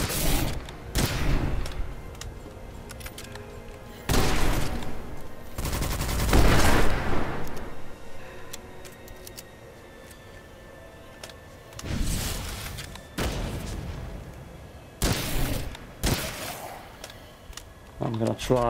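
Bursts of rapid gunfire from the PC game Witchfire during a boss fight, coming in several separate volleys with quieter gaps between them and a voice talking over parts of the shooting.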